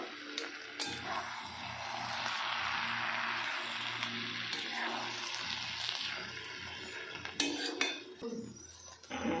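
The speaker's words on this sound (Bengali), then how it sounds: "আর একটু আলতো করে নেড়ে দেবো" Spinach and pumpkin curry topped with crushed fried lentil bori stirred gently in a pot, faint soft scraping and occasional light clinks of the spoon against metal, with quiet background noise.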